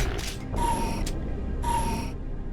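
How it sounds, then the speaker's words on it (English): Health pickup in a first-person shooter: two bright shimmering chimes with a tonal ring, separated by a short click, over a constant low rumbling game background. "Yeah, that's the sound of picking up health."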